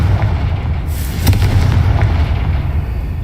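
A Confringo spell detonates in a Harry Potter video game, a sharp booming blast with a short crackling burst over a steady low rumble of game ambience, with no talking.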